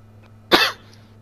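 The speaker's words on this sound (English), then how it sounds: "I recognize that cough." A single sharp cough comes through Xbox voice chat during a Black Ops 2 session, loud and brief over a faint steady hum.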